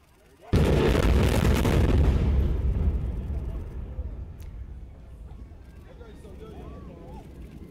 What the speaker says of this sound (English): The first explosion was to chase away birds.